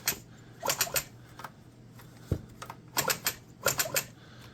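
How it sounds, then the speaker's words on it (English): Bursts of dry mechanical clicking come from the starter pawls of a McCulloch 1-80 chainsaw under revival, in quick clusters of three or four sharp ticks separated by short pauses, close and moderately loud. "The clicking you're hearing is just the starter pause."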